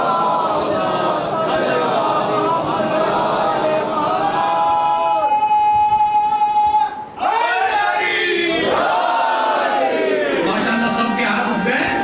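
A large religious gathering responds together to a preacher's call, the crowd shouting a slogan in unison with loud, sustained massed voices that swell, break off briefly, then rise again.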